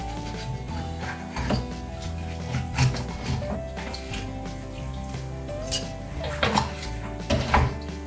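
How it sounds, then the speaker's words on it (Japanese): Scissors crunch through the bones of a sea bream in a few sharp snips, spaced seconds apart, over steady background kitchen noise and faint music. "メバルと同様にこのハサミでここの骨を切ります"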